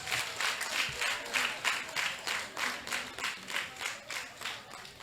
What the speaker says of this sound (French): Et je vous prie de les applaudir,